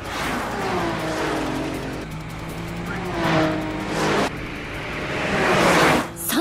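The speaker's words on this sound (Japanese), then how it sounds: "3台並んでものすごく速い。" Racing cars from the Wangan Midnight anime, three running side by side at high speed: a continuous loud engine roar with rising and falling pitch sweeps as they accelerate and shift, with a sharp break near the end.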